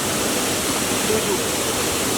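The Kima Atas waterfall near Manado roars as a loud, steady, broadband rush of falling water with no break.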